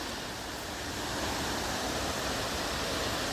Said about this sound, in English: So guys, you can hear that sound of the water.